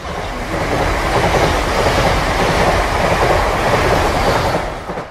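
A passenger train runs steadily along the rails on the Howrah to Varanasi route, a loud, continuous rumbling roar with faint clickety-clack that holds level for about five seconds before easing slightly at the end.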